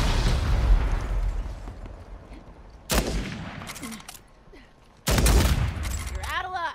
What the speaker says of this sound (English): Trying to get better with this sniper rifle.